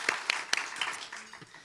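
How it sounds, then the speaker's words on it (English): Audience at a garden luncheon gives a short round of applause, a few distinct claps swelling briefly and then fading, fairly faint and distant. "So, yes, a round of applause"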